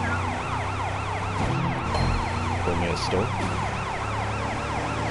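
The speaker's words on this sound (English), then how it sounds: "It's called a siren for a reason." A wailing police siren in the video game Sleeping Dogs: Definitive Edition sweeps up and down continuously over engine rumble, loud and close, with a brief mumbled voice partway through.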